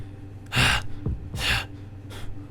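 Three heavy, breathy gasps from a character in the visual novel Tsukihime, spaced about a second apart, close and fairly loud, with faint quieter breaths between them and no speech.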